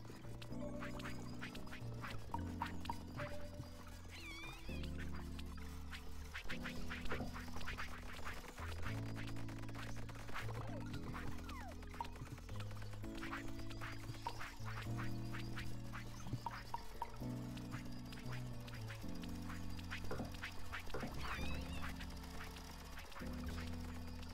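Duck quacks from the video game Autonauts, a steady run of repeated quacking calls over continuous game music, fairly loud and close throughout.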